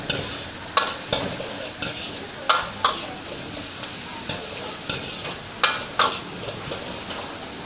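Chilli chicken for Amritsar street food fries half-done in a pan, a steady sizzle broken by repeated sharp scrapes and clanks of a spatula stirring at a loose, uneven rhythm, close and clear with no talk.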